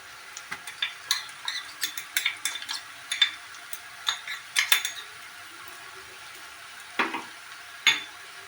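Fried onion and grated ginger cook in a pan, with a low hiss under a string of sharp scraping and clinking stirs from a spatula against the metal, irregular and close, then a pause before two final strokes.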